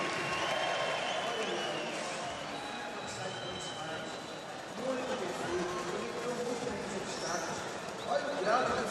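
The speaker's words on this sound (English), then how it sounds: "And the crowd is chanting." Spectators at a street skateboarding contest in Rio de Janeiro chant and cheer in the background, a steady crowd roar with swells, heard beneath a commentator talking throughout.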